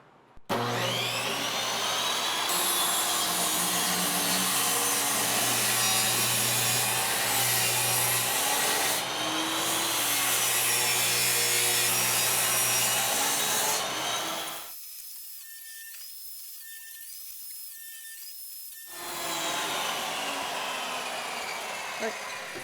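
A power saw rips pressure treated plywood pieces, a loud continuous buzzing cut with shifting pitch that stops abruptly, leaving a few seconds of near silence before the motor whines back briefly.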